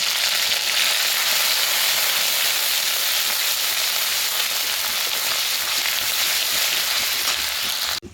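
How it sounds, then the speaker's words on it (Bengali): Ginger paste frying in hot oil with cinnamon and cracked cardamom, a loud, dense, continuous sizzle close up, steady throughout with no talk. "ওই তেলের ভিতরেই আমি আদা বাটা দিয়ে একটু কষিয়ে নেব।"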